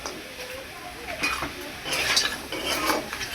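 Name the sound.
stirring green chillies into crab curry in a pan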